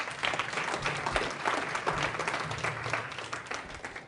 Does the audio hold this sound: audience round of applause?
yes